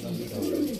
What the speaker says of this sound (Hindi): ये देखो जर्चा कबूतर है